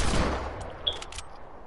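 Desert Eagle hand cannon and pump shotgun firing in Fortnite, a heavy boom that decays, then a few sharp, quick shots close together amid game noise.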